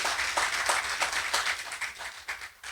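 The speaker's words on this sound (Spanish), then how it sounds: "Dale un fuerte aplauso a Jesús." A church congregation at a Spanish-language service gives a loud round of applause for Jesus, with steady, rhythmic clapping from many hands that sounds close and full and continues without a break.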